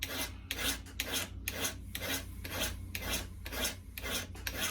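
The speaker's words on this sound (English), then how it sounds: "Now I'm not using a super fine file." A metal file rasps across the blades of sheep hoof trimmers in steady back-and-forth strokes, about two per second, close and fairly quiet with no talking.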